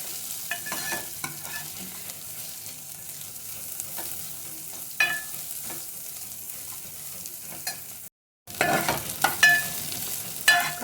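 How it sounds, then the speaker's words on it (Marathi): Chopped onion sautéed over low-to-medium gas flame while being stirred in a pan for a bottle gourd dal, with steady frying crackle and intermittent scraping strokes, and a brief dropout near the end. "कांदा टाकलेला आहे. कांदा पण चांगला आपण परतून घ्यायचा आहे."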